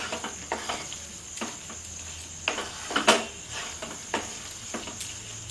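Mixed vegetable curry with coriander leaves being stirred in a pan, a spoon scraping in soft periodic strokes about once a second over a faint steady sizzle, close and alone without talk.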